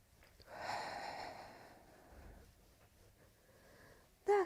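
A deep breath taken during a Pilates exercise class, a long soft inhale and exhale of airy breath, moderately close, followed by a quiet stretch and a short louder burst at the end.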